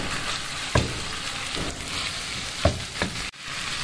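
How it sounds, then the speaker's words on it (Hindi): Tomato paste made from two peeled medium tomatoes cooks in a pan for chicken lasagna, giving a continuous dense sizzle with a few light spoon taps and stirs near the surface. "टमाटर का पेस्ट डालने के बाद इसे अच्छी तरह हमने पका लेना है"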